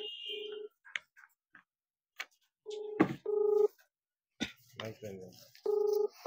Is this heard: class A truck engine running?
no